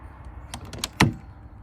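An Entegra RV coach door fitted with a new lock is worked, giving a few quick metallic latch clicks and then a firmer thunk, close and distinct.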